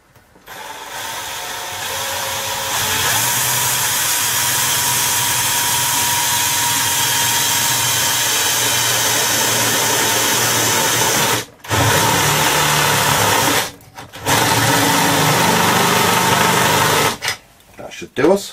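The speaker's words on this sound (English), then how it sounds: "we need to drill the next hole" A power drill bores a hole through the metal modulator box of a Texas Instruments TI-99/4A home computer, a steady loud whine running for long stretches with two brief pauses and a short final burst.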